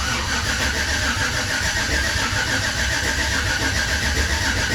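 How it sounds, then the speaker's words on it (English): Chevy Silverado engine turned over on the starter, with an AFM lifter failure, to build oil pressure. It makes a steady, loud, continuous churning drone lasting the full stretch, with no pauses or voices. "I'm going to crank this thing over and see if we can build up some oil pressure."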